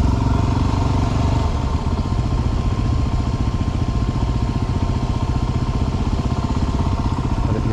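A Yamaha TW motorcycle rides past on a Telluride street, its single-cylinder engine putting out a loud, steady, close chugging drone that holds for several seconds with no talking.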